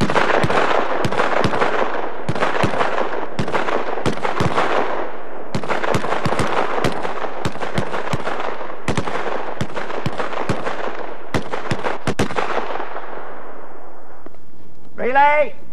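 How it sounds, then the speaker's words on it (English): Rifles fire single rounds on a 100-metre range in cold weather, with many shooters on a relay producing a steady run of sharp, loud reports at irregular intervals. The shots are close and echoing, and no one speaks. "Nice even shooting there, everyone, despite the cold."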